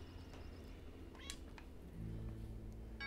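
A cat in the video game Lake gives a short, clear meow over soft background game music, with another brief mew near the end.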